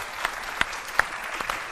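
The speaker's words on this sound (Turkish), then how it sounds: "Bir alkış alabilir miyim?" A handful of scattered, separate hand claps from a stand-up comedy audience, sounding thin and sparse rather than like a full ovation, with no talking.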